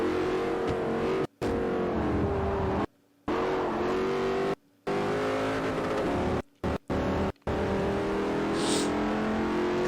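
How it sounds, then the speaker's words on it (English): An Audi R8 in the racing game Forza Motorsport 4 drones with a sustained engine note that shifts in pitch, broken by several abrupt short cuts to silence. "here's the Audi R8."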